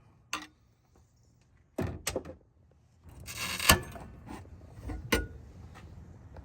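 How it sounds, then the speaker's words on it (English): A small metal tab on a transmission cooler mount bracket is knocked down by hand tool, giving several sharp, separate metallic taps and thunks spread irregularly across a quiet garage, some with a brief scraping rattle. "You have to knock down this little tab a little bit in order to free this bracket."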